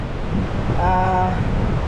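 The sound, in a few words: strong wind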